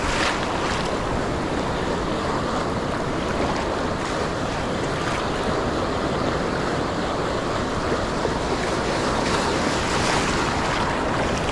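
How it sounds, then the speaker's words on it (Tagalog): Sea waves wash and churn constantly around a small fishing boat, with steady wind noise buffeting the microphone throughout and no voices. "malaki yung alon."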